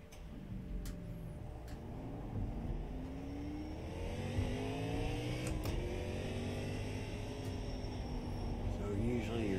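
An Xfinity Camaro race car in the iRacing sim at Sonoma Raceway runs a lap, its engine droning and climbing in pitch through repeated gear changes. The engine stays close and steady the whole time, with no other sound over it.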